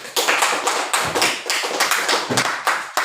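Classroom applause from students, a quick run of sharp, uneven hand claps repeating steadily for about three seconds, close and fairly loud, with no talking over it.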